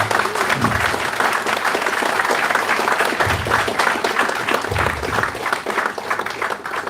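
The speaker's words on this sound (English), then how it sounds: "So give them a round of applause, Charles, Cecil, and Tony Warriner." Sustained applause from a large audience, a dense, even wash of clapping that holds steady throughout.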